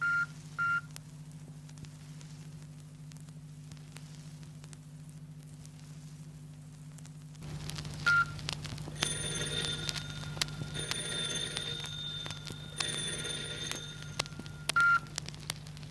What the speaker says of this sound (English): He dialed Mrs. Donald's number and waited.